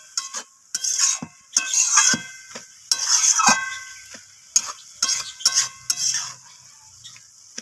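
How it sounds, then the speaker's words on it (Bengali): Chopped tomatoes are stirred in a pan while cooking a Kashmiri-style cabbage ghonto. A spoon scrapes and clinks against the metal in intermittent bursts, with steady faint sizzling in between. "তো টমেটোটাকে দিয়ে আমি আবারও নাড়াচাড়া করে নিচ্ছি।"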